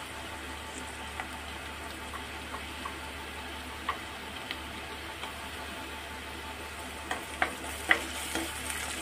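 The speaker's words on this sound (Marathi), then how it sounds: "तर आपण चांगलं फ्राय करून घेणार आहोत, त्याच्यातलं कच्चं पण निघून जायला पाहिजे।" Crushed garlic and browned onion fry in a pan for a soya chunk and egg curry, a steady close sizzle punctuated by occasional spatula scrapes and stirring taps, without talk.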